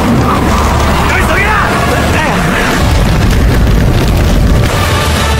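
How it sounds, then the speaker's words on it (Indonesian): A bomb detonates and destroys a bridge in a war film, a loud, sustained booming roar with heavy low rumble and debris crashing throughout, with a voice talking over it. "Akibat ledakan itu, jembatan pun hancur."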